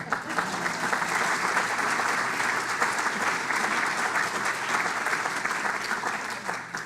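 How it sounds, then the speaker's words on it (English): An audience applauds at a Community Partnership Award presentation, a full, sustained round of clapping at steady strength that tapers slightly at the close, with no voices. "You may now applaud"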